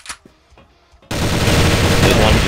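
Rapid, sustained gunfire from a shooter video game during a tournament match erupts loudly and abruptly after a brief quiet stretch with faint voices, then continues as a dense, unbroken burst.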